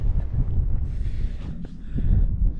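Strong wind buffets the microphone at a trig point on a Peak District hilltop, a loud, low, gusting rumble throughout with no talk.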